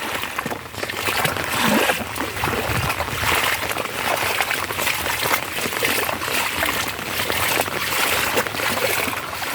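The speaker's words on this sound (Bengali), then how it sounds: "আমার অবস্থা দেখেছেন তো কী অবস্থা পুরো জলের ওপর দিয়ে যেতে হচ্ছে" Someone wades through floodwater in a Sundarbans village during the monsoon, with continuous close splashing and sloshing of water around the legs from step to step, and no clear talking.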